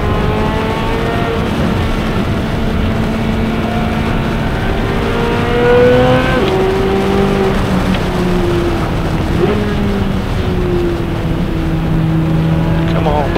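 A Porsche race car at Road Atlanta (Michelin Raceway) sustains a loud, steady engine roar with rising and falling pitch sweeps as it passes and shifts, close and continuous throughout.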